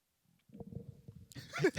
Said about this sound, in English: It was an untimed burp.